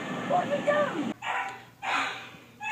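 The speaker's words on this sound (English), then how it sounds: "Both the puppy and my dog keep making noises." A dog and a puppy bark and yip in short, sharp bursts indoors. The barks are fairly loud and close, with brief gaps between them.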